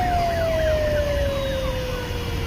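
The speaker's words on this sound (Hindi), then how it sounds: "एम्बुलेंस दोनों घायलों को लेकर अपने गंतव्य को रवाना" An ambulance siren wails steadily as the vehicle pulls away, its pitch sliding slowly down, loud and continuous over a low rumble of traffic.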